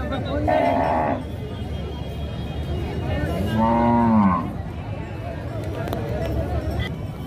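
Cattle at the Devarakadra bull market, with a loud, close moo rising over a steady crowd hubbub. A shorter bovine call comes earlier, and people talk throughout.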